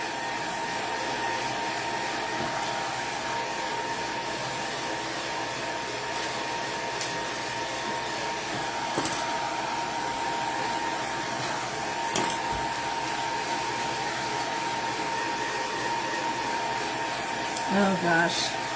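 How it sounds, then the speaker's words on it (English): Hair dryer blowing on low setting while drying a handmade reindeer decoration, a steady, continuous whooshing hum heard close, with a few faint clicks and a brief voice near the end. "right now I'm just blow drying it on low, not too close"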